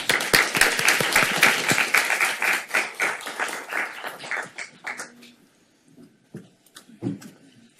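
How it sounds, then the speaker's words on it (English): Applause breaks out at a Santa Monica city council meeting, a loud, fairly close burst of clapping that thins out after about five seconds into a few scattered claps and faint murmurs. "Okay, we can clap."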